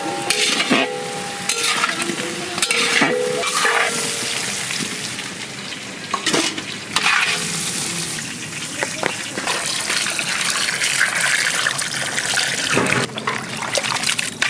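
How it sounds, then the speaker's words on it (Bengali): Potatoes fry in a pan during Bengali village-style cooking, giving a loud, continuous close sizzle broken by repeated scraping stirs throughout. "আলু ভাজা হয়ে গেছে, নামিয়ে নেবো"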